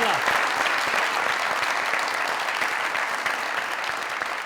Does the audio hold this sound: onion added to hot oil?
no